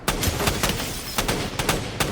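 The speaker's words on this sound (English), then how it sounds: "The first blast of gunfire echoes away." Rapid bursts of gunfire crack in quick, uneven succession, loud and close, echoing without pause.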